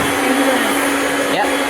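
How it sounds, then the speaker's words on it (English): A vacuum cleaner runs steadily and loudly during basement cleanup after sanding, a constant motor whine with broadband rushing air and no breaks. "I don't think I can hear what you're saying because of the vacuum."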